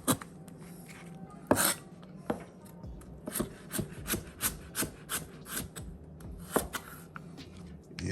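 A kitchen knife cuts through raw chicken for Escovich fried chicken, giving a string of rough scraping strokes in a fairly steady rhythm, close and moderately loud, with no one speaking.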